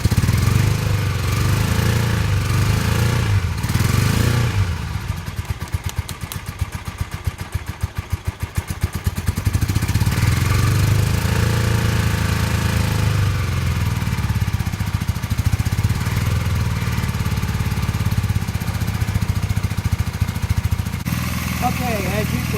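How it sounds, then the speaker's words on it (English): A 1982 Honda CB 450 motorcycle engine runs rough, as if on one cylinder, a loud, uneven, close chugging idle that stumbles into rapid irregular popping midway, then settles back into a lumpy rumble. "Sounds like it could be running on just one cylinder."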